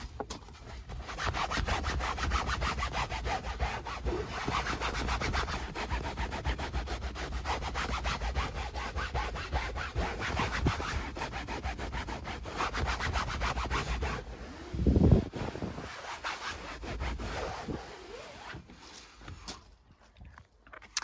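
Damp microfiber cloth rubbed over a fabric car seat, a long run of close, quick back-and-forth scrubbing strokes at a steady rhythm, fairly quiet, with a brief thump near the end.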